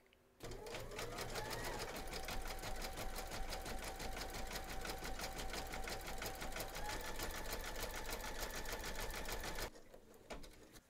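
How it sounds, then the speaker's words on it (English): Embroidery machine stitching round 13 of an in-the-hoop teddy and unicorn bag in lilac thread, a steady rapid needle clatter running close and loud for about nine seconds before stopping abruptly. "pop our hoop into our machine and stitch round number 13"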